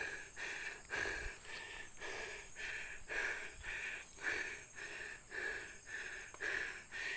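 Heavy, rhythmic panting from someone out of breath after climbing uphill on a steep trail, each breath loud and close in a steady repeating pattern, with no talk over it.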